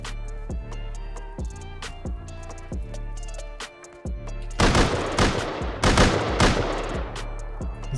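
Rapid gunfire rings out in Rust as suppressing fire, with sharp shots ticking at a steady clip before a dense, loud burst of overlapping rounds takes over near the end.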